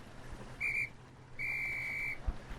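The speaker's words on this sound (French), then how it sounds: "l'arbitre qui siffle" A referee blows a whistle twice at a raft race, a short shrill blast followed by a longer sustained one, loud and clear over faint background noise.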